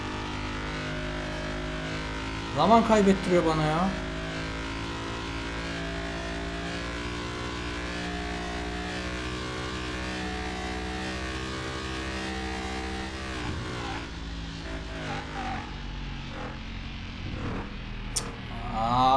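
A car engine in Car Mechanic Simulator 2021, a Land Rover held at high revs in fourth gear, drones as a steady, strained, buzzing whine throughout. Someone speaks briefly over it.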